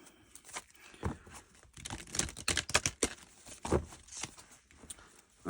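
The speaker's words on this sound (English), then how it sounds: "I'm shuffling a little bit off camera because I don't want to mess up the dragon layout." A deck of cards being shuffled by hand off to the side, giving a run of quick papery riffles and crisp snaps in uneven bursts, fairly close and with no talking.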